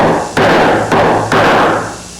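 A hammer drives a small nail into a homebuilt aircraft firewall, giving three loud, close blows in steady succession, each ringing out briefly before the next.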